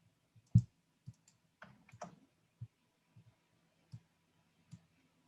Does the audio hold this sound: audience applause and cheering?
no